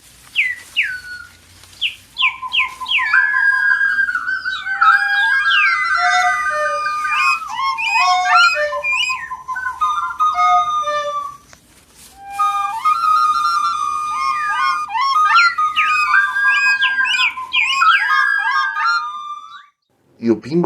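Bright, varied birdsong with rapid whistled trills and chirps, several birds calling continuously, clear and close, with a brief pause midway.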